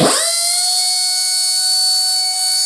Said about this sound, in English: So I have over here a pneumatic compressor.